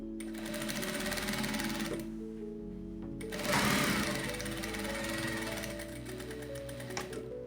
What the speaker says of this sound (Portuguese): E vai passar a costura nesse vinco aqui.